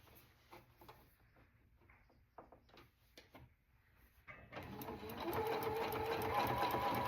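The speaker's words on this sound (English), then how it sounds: "I'm stitching this down with a very pale pink." A sewing machine stitches down a rag quilt with very pale pink thread. A few quiet clicks and handling knocks come first, then the machine runs loud and steady for the last few seconds.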